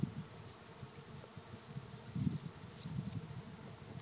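A swarm of bees hums at PrairiErth Farm during a capture, a faint, low, continuous buzzing that swells slightly midway, with no one talking.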